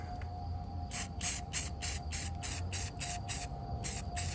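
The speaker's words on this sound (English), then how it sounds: "I'm gonna do a little more spray painting on the parts that need it" About ten short bursts of a spray paint can hissing in a quick, even rhythm, close by, painting a bolt and washer on a Royal Enfield Bullet sidecar fender, over a steady low hum.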